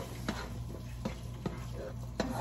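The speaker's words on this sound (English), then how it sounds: "Keep it stirring, Juice." A spoon stirring melted butter and marshmallow for Rice Krispie treats, soft sticky scrapes and occasional clicks against the pot at a close, quiet level, with no talking.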